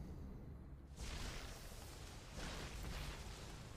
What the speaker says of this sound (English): There was a nice explosion there.